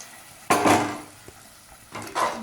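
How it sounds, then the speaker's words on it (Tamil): A spoon scrapes through chickpea curry in a pot just after boiled water goes in, giving two brief bursts of wet stirring and pan scraping, separated by a quiet pause with a small clink. "நல்லா அப்படியே கிளறி விடணும்."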